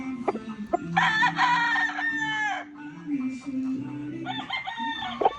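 A large RGM gamefowl rooster crows loudly and close, two long drawn-out crows with clucking and other fowl sounds between them.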